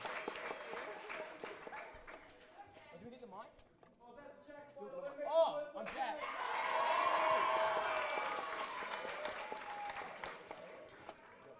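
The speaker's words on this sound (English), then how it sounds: "Another round of applause." Audience clapping and cheering at a school battle of the bands, building to a sustained, loud round of applause after scattered voices and crowd noise earlier on.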